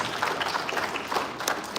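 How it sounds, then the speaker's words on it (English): Conference attendees at SAIPEC 2026 clap for a presenter, a brief, fairly loud burst of many hands applauding steadily throughout. "Give him a round of applause."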